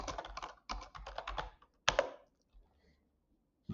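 Rapid bursts of typing on a computer keyboard, clusters of close key clicks separated by short pauses, with no talking over them.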